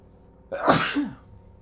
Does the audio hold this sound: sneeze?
yes